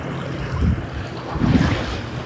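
Strong crosswind gusting over seaside rocks during shore fishing, a broad rushing roar buffeting the microphone with swells around the middle and end, mixed with surf-like wash and no voices.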